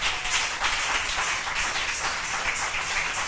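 A church congregation applauding in steady, continuous clapping that fills the room, dense and even throughout with no voices standing out.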